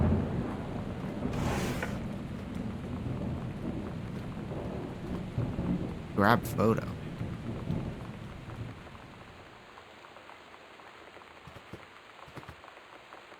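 Steady rain and rolling thunder from a thunderstorm in the video game Gone Home, with a sharp close crack midway before the downpour fades to a quieter patter; a voice speaks briefly.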